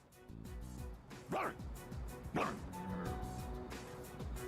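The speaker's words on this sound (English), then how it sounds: "I wonder how much money they had to pay the guy to, like, do the dog noises." In the Persona 3 Reload video game, a voice actor performs a dog's barks, giving two short yelps over game music and background noise.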